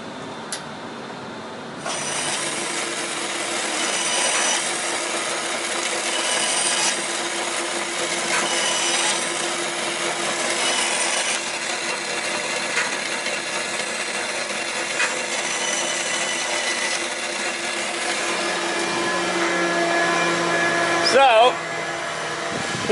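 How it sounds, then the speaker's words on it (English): A power sander grinds metal down to bare metal with a continuous whirring rasp that holds steady, followed near the end by a brief louder scrape. "He's sanding, so we can get down to bare metal."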